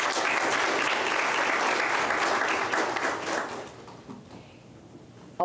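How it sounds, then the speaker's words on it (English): A large audience applauds the helpers at a National Youth Parliament sitting, a dense wash of clapping that holds steady for several seconds, then thins and dies away to near quiet. "give them a round of applause"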